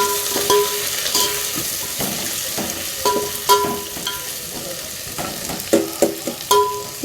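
Onions sizzle in a pan of biryani base while a utensil stirs and scrapes against the metal in irregular clinks and bursts, the steady frying hiss running beneath the close, sharp stirring sounds.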